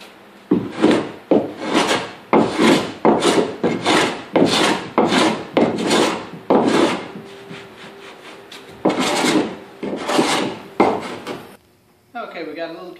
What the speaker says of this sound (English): we're going to come back with the hand sander and sand that down flush